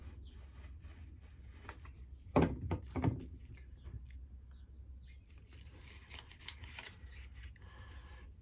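Scissors snip open a small seed packet of red-skinned chilli or pepper seeds, two quick crisp cuts close by over a quiet background with faint rustling of paper.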